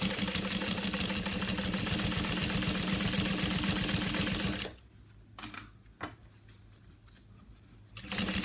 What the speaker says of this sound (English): the sewing we're doing here that'll kind of look like top stitching